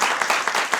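Audience applause fills a small theatre at an improvised murder-mystery comedy show, a dense, steady wash of many hands clapping up close and loud for the whole stretch.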